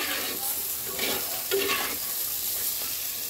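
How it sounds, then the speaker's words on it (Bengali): A spice mixture fries in a pan while being stirred, giving a steady close sizzle with scraping strokes throughout. "তো চলো এটাকে একটু হালকা ভেজে নেই।"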